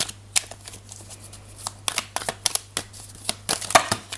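Tarot cards are shuffled by hand, giving a series of crisp riffling snaps and soft card slaps at an uneven rhythm, close and clear over a low steady hum, with no speech.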